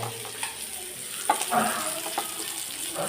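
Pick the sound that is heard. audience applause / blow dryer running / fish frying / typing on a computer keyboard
fish frying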